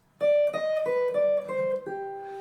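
A jazz guitar plays a short melodic minor phrase of about six clean, sustained single notes in a steady stepwise line, each ringing into the next, close and alone with no voices.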